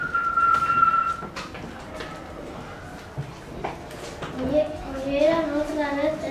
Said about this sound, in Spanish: empezó a silbar